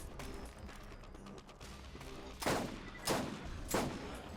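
Gunfire in the Borderlands video game: several sharp bursts of shots stand out in the second half over a quiet, mechanical game background.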